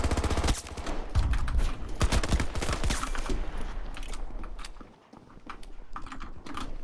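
Rapid automatic gunfire in the shooter game Battlefield 2042, dense crackling bursts fired close and loud, fading briefly before more shots resume.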